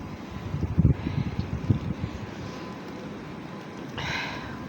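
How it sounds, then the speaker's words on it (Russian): A blizzard in Moscow drives snow along the ground, and gusts buffet the microphone in a rough, fluttering roar that swells in bursts and then settles into a steady rush. "В Москве буран. Метель."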